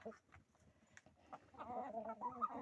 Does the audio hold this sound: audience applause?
no